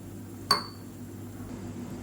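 A single bright clink of a spoon against a vessel while gram flour is mixed into water for a chutney, ringing briefly and fading over a quiet kitchen background.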